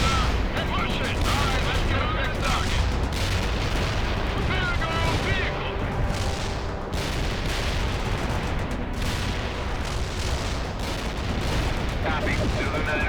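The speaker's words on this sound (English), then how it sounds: "Zulu 9 are firing mortars" Mortar fire and battle explosions in the World in Conflict video game, a dense loud barrage of booms and gunfire that runs without pause, with radio voices talking over parts of it.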